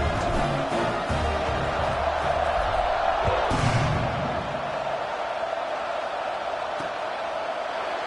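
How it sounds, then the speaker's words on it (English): A stadium crowd in the College Football 26 video game, Texas Tech vs. Kansas State, roars in a steady wash of cheering that swells briefly midway and then holds at a constant level. "this crowd now ready to get behind them"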